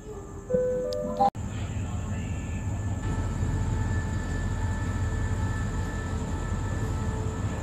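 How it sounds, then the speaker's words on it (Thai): Passenger train led by locomotive 4043 pulling into platform 3 at a busy station, a heavy continuous low engine rumble with tonal hum, preceded by brief electronic chime tones and a sharp clunk. "ปู4043จะนำขบวนเข้ามาเทียบไว้ในชานชาลาที่3อีกเช่นเคย"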